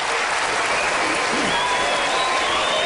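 A large audience at a Republican presidential debate in Mesa, Arizona breaks into loud, continuous applause, a dense wash of clapping with a crowd murmur beneath, heard alone without speech.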